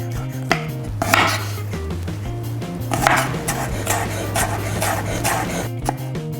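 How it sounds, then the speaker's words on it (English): A knife chops smashed garlic on a board for noodles with black bean sauce, a quick run of crisp, uneven chops close up over background music. "First thing we're going to do is to cut the garlic. So just smash it down."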